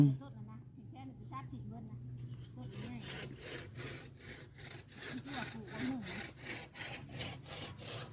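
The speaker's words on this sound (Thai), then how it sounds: "เลื่อย" A saw cuts through wood in steady, rhythmic back-and-forth strokes, growing louder after a quieter start, with a voice speaking faintly nearby.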